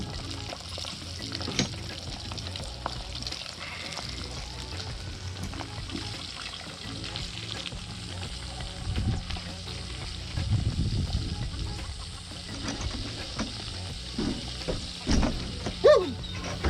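Fish fillets fry hard in a hot pan with a steady crackling sizzle and occasional sharper spits and pops, sounding close and fairly quiet with no voices.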